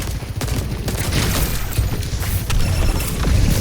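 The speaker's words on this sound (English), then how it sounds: "So here, you're shooting on the tank." Rapid gunfire and booming impacts from shooting at a tank in a video game, dense and continuous across a busy, loud battle mix with no pauses.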